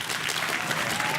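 Studio audience applause in a television studio, a dense burst of clapping filling the whole moment, close and loud.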